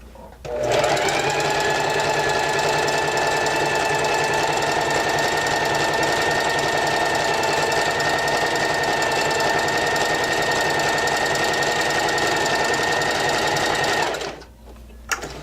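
Sewing machine running a flexible stretch stitch on thin knit fabric, a steady continuous mechanical whir held for about fourteen seconds before stopping, close and loud with no talking.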